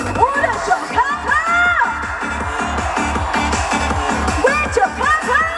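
A crowd on the right side cheers and shouts at an outdoor trot concert during the 38th Yeoju Ceramics Festival. The cheering is a loud, steady roar that runs under thumping band music with a regular beat.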